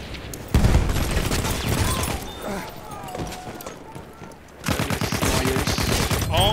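Rapid bursts of automatic gunfire and shots crackle in Battlefield 1 on the Suez desert map, loud and close, dropping briefly before a dense volley resumes, with a player's voice shouting over the battle.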